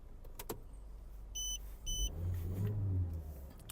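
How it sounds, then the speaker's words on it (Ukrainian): A Skoda Octavia A5 1.6 petrol/LPG engine with 211,000 km turns over and settles into a low, steady idle rumble, preceded by a few mechanical clicks and electronic chimes nearby. "Двигун запускається чудово."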